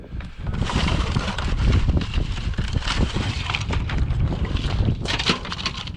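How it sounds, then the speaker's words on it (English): Strong gusts of wind roar and buffet the microphone continuously outdoors at a building site, loud and close, with rumbling low noise throughout. "It's really windy today."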